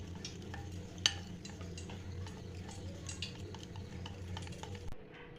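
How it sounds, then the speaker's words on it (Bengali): A spoon stirring apple jalebi batter mixed with food colouring in a bowl, giving faint, steady scraping and light clinks with a sharper tap early on, low and close, with no talk. "দিয়ে ভালোভাবে মিক্স করে নিচ্ছি"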